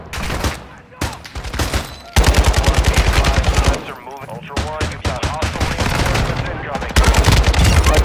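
Gunfire in the Spetsnaz video game, loud bursts of rapid machine-gun shots and single cracks coming in several volleys with brief gaps, and players talking faintly in between.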